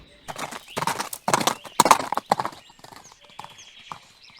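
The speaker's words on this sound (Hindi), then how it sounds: "घोड़ा दौड़ता चला गया।" Horse hooves clip-clop in a fast, rhythmic gallop, loud and close at first, then fade out as the horse runs away. A whinny comes through, and the effect sits within a Hindi-language audiobook of an adventure novel.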